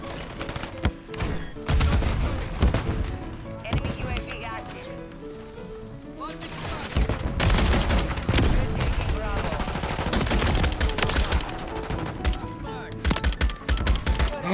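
Gunfire in Modern Warfare 3: repeated bursts of shots and thuds throughout, loud and dense, mixed with game music and effects, with a few louder blasts near the middle and end.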